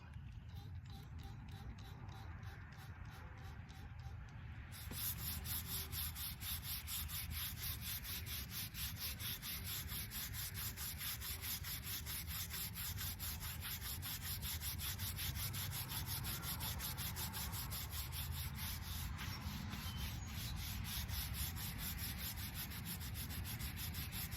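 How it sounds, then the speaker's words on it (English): A brush scrubs a headstone by hand in a steady, rhythmic rasp that keeps going without a break, close and fairly loud. Speech is faint or absent under it. "So today, you know, it's not like I'm getting paid for it, you know, so hand scrubbing it is."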